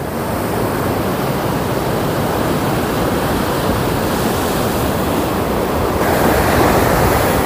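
Steady, roaring wash of ocean surf breaking on a rocky coral shore at Ngobaran Beach, dense and unbroken with wind rushing across the microphone, no voices.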